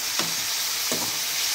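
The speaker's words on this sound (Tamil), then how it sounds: "பாருங்கள், வெங்காயம் 1/2 வாசி வதங்கிடுச்சு." Thinly sliced onions frying in a pan for semolina upma, a constant bright sizzle with two brief stirring scrapes, close and loud with no talking.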